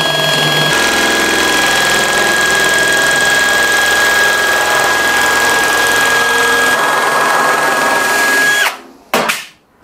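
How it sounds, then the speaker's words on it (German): Cordless drill-driver fitted with a saw attachment cuts metal in a straight line, giving a loud, close, continuous whine with a steady high tone for about nine seconds before it abruptly stops, followed by a few short clunks. "Wir machen jetzt mal einen geraden Schnitt. Wir schneiden jetzt Metall, ist wie beim Bohren."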